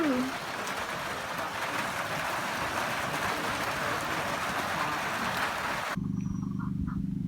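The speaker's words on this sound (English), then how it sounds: "It's actually raining for the first time in so long." Rain falls as a dense, steady broadband hiss of drops for about six seconds, then cuts off abruptly, leaving a quieter low hum.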